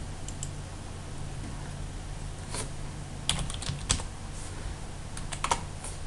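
Keystrokes on a computer keyboard while working in AutoCAD, a soft continuous patter of typing with several sharper, louder key clicks scattered throughout, close up over a low hum, no speech.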